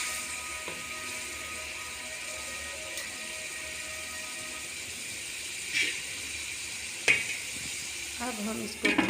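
Chopped tomatoes fry in a pan with chicken and green coriander leaves, producing a steady soft sizzle and hiss with occasional clinks and stirring sounds toward the end.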